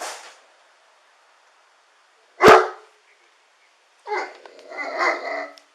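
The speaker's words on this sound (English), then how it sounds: "Our dog's in the cabin over here." Dog barking inside a cabin during a police visit, one sharp loud bark in the middle, followed a moment later by a longer burst of muffled noise that may be more barking, with near silence around them.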